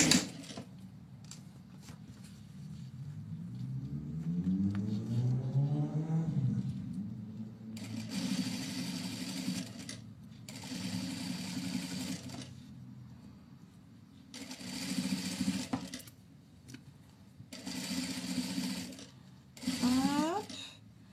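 A sewing machine stitches fabric 5 mm from the edge of a small zippered pouch, running in several steady whirring bursts separated by pauses, close by, with a voice talking in the gaps.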